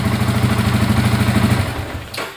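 A 2014 Yamaha Vixion motorcycle engine idles up close with a steady, pulsing mid-range thrum. It fades out near the end, and a short scrape follows.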